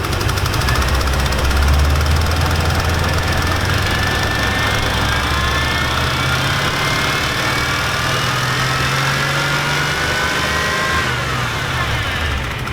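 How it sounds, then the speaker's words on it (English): A Chevy TBI engine being revved up slowly, its loud continuous drone rising and falling gradually in pitch close to the microphone, with no voices heard. "You rev it up slowly."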